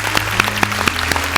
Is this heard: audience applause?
yes